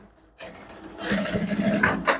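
A sewing machine stitches fabric for a male short, starting after a brief quiet and then running with a steady, rapid mechanical whirring and clatter that grows louder.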